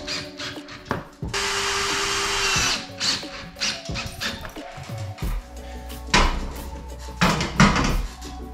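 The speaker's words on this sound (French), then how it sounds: "je viens de percer un trou à la scie cloche" A hole saw bores into a ceiling for a detector during renovation work, a loud whirring drill run followed by bursts of grinding, knocking and handling of the tool and material.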